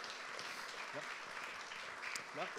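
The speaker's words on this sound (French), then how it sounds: "Vous pouvez l'applaudir." Quiet applause from an audience at a health and parasport partnership event keeps up a soft, continuous wash of clapping, with a few voices talking faintly underneath.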